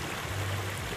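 Water flows steadily in the Krông Kmar stream in Đắk Lắk, a soft continuous rushing and burbling at low level with a faint low hum underneath and no voices.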